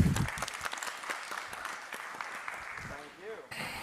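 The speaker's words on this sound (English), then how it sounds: "So a big round of applause." An audience applauds steadily for a few seconds while a voice speaks over the clapping, then the applause fades out.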